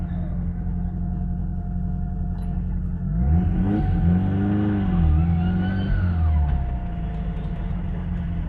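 A turbocharged 4AGE engine in a Mazda 323 revs up with the boost turned down, rising and falling in a loud, steady drone from inside the moving car.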